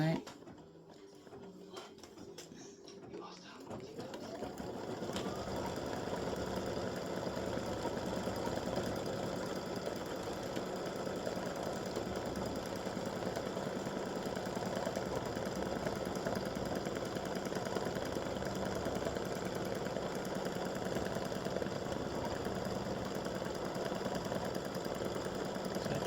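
After a few seconds of quiet handling noises, an embroidery machine starts stitching the side panel of a mug rug and keeps running in a steady, even whir for the rest of the stretch.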